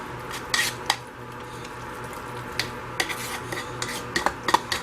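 Spoon scraping and clinking against a pot while stirring a thick hot process soap mixture, irregular metallic taps and rubbing strokes, close and moderately loud with no talking.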